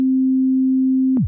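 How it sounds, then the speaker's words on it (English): A plain sine-wave test tone from a DJ mixer holds steady and loud for over a second, then drops away in a short downward sweep that ends in a click. "So what I've got here is just a sine wave that sounds like this."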